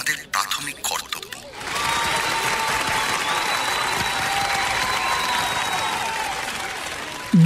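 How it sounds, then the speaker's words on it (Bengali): An audience applauds loudly as an audio-drama sound effect: a dense, steady wash of clapping lasts several seconds, with a narrator's voice speaking just before it and again at the very end. "দুরকম কথাতেই দর্শক ও শ্রোতারা খুব হাততালি দিল।"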